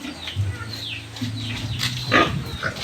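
Pigs on a farm grunt and squeal in short overlapping bursts at close range, with brief higher cries mixed among the low grunts.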